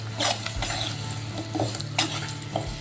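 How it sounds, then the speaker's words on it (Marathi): Jaggery roasts in ghee in a pan as it melts, a soft continuous sizzle broken by several quick stirring scrapes and taps of a utensil, close and moderately loud. "हा छान मी आता याला मेल्ट होईपर्यंत भाजून घेते याच्यामध्ये"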